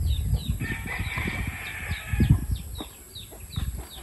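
Broody mother hens kept as natural incubators cluck in a steady, busy murmur close by, joined by scattered sharper chicken calls and rustling.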